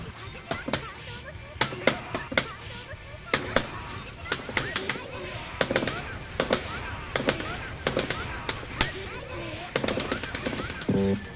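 Gunfire from the Guilty Gear fighting game, rapid sharp shots in quick clusters with irregular pauses, layered over game effects and a voice talking throughout.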